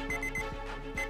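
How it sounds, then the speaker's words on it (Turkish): Cartoon alarm sound effect from a Turkish animated children's series, a loud repeating electronic ringing with steady high tones and rhythmic low pulses, alone with no talk. "Akıllı tavşan alarmı!"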